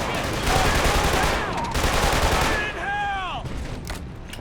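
Enemy assault rifle fire in Killzone 2 crackles in dense rapid bursts through a noisy battle mix, with brief whistling tones and shouted game dialogue woven in.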